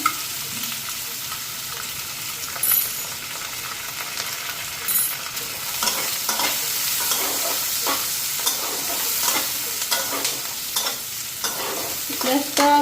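Eggs with raw onion crackle and sizzle in hot oil in a wok, a steady dense frying hiss broken by sharp popping spatters and occasional stirring scrapes, close and fairly loud, with no one talking.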